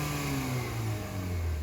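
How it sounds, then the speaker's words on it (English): A 2021 Honda Accord Sport with its detuned 2.0-liter turbocharged Type R–derived engine runs steadily, a close, low, smooth drone with a slowly falling pitch and no voices. "the sound of the engine"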